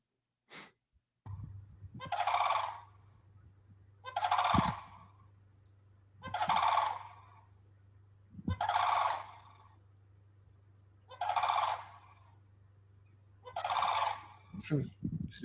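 Birds give loud, harsh gobbling calls, six evenly spaced bursts roughly every two seconds, close and prominent over a steady low hum.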